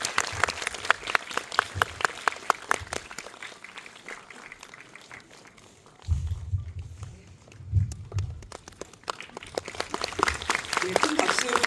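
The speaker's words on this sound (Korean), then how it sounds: "박수로 환대 부탁드립니다." Audience applause welcomes guests at a Korean drama series event for Hellbound Season 2, a moderate scatter of clapping from a crowd that eases off midway, while people talk over it, then swells again toward the end.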